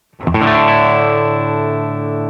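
An electric guitar chord on a 1994 Telecaster rings out once through a Ramble FX Marvel Drive pedal's clean sound, rich and sustained with a shimmering effect, decaying slowly with no talking.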